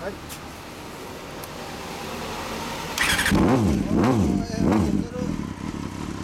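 A 1992 Honda CBR250RR idles with a loud aftermarket Vega Sports exhaust, then revs three times in quick rising-and-falling bursts, close by, with people talking.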